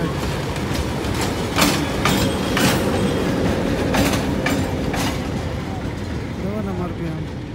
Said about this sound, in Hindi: तो अभी 11 अप की पावर आई है किधर से, मलकवाल से ये जा रही है